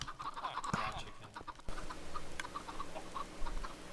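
Minecraft chickens on an automated farm give short, faint clucks and chirps that repeat irregularly over a low, steady background hum.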